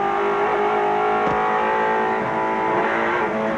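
Touring cars from the 1991 Australian Touring Car Championship roar past beneath the bridge at Lakeside, a loud, continuous layered engine drone with a brief sharp transient midway as cars close on each other.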